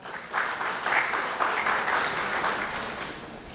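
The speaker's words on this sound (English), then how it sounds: "Can we have a good round of applause for him?" Applause from a seminar audience welcoming a chartered accountant faculty speaker, a steady wash of many hands clapping at moderate distance for a few seconds without voices.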